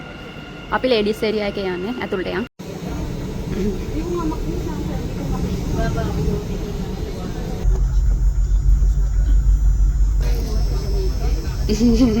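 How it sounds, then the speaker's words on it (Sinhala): A metro train rumbles in and rolls to a stop close by, its low drone filling the platform while people talk nearby. "අපේ මෙට්‍රෝ එක ආවා."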